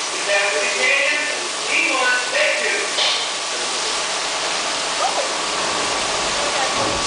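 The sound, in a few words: water nozzles spraying rain effect over Disney studio tram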